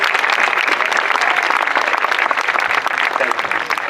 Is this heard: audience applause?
yes